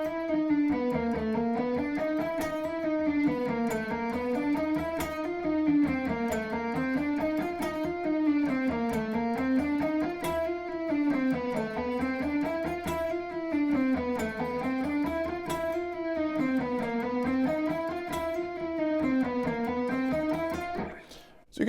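Electric guitar playing a fast, evenly picked Aeolian scale run with mechanical fingering, cycling up and down in a steady repeating pattern at moderate volume for about twenty seconds, alone.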